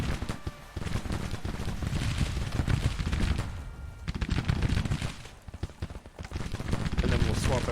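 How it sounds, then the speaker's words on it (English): Cannon fire and musket volleys in the Civil War strategy game Grand Tactician: The Civil War make dense, repeated booms and crackling bursts that swell and fade in waves, with someone talking over the battle. "trade some cannon shots"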